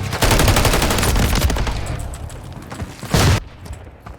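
Rapid bursts of automatic gunfire crackle through a firefight in Call of Duty Modern Warfare III, loud and dense at first, thinning out, then one final sharp burst before it cuts off.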